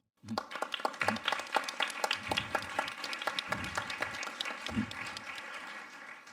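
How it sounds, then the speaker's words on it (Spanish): An audience breaks into applause, many hands clapping steadily and fairly loudly for several seconds without fading. "les invito a que les agradezcamos a través de un aplauso"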